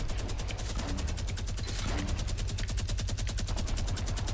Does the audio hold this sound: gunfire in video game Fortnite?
yes